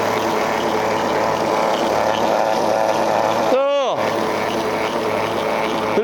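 A BMW idling in drive with an abnormal drivetrain fault gives off a loud, constant whirring, grinding drone, and a short tonal sweep rises and falls over it near the end.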